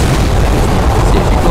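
A loud, sustained explosive roar from a giant cannon in the video game Renegade X, with dense rumbling noise that fills the whole short moment, with no quiet gaps.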